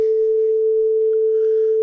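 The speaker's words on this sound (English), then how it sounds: "Sine wave." Steady pure sine tone from a Pure Data oscillator, held at constant loudness for about two seconds, clean and alone.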